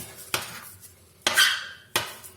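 A metal dough scraper strikes down through bread dough onto the work surface three times, sharp scraping clacks spaced about a second apart with quiet between.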